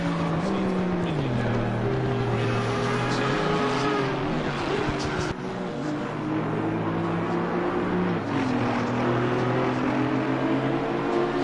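An Audi GT4 race car on the Zolder track in Assetto Corsa Competizione, its engine droning steadily and rising and falling in pitch through gear changes, loud and continuous.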